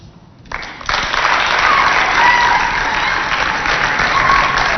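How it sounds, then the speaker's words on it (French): An audience at a church Christmas show in Chad starts to clap. The applause quickly swells into loud, sustained clapping from a large crowd and stays full and even to the end. "On les applaudit très fort, les amis."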